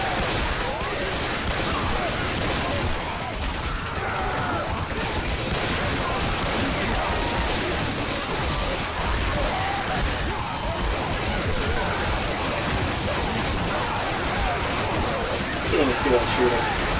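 Gunfire in the Left 4 Dead 2 video game, dense and continuous bursts of shooting layered with game noise throughout, with a voice talking over the din.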